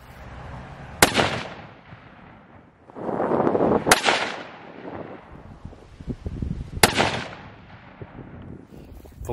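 Three loud, sharp rifle shots fired with 150 grain TSX bullets, spaced a few seconds apart, each ringing out with a booming echo, with faint rustling between them.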